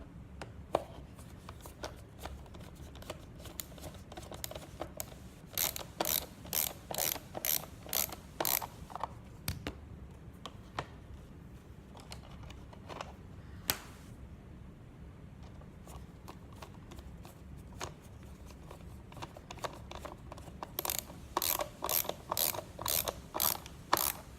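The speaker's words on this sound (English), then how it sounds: "it doesn't matter which order you go into to get these screws back on, as long as they're all back on." A screwdriver drives screws back into the plastic housing of a Big Mouth Billy Bass singing fish, making quick, faint ratcheting clicks in repeated clusters with short pauses between bursts, close by and without speech.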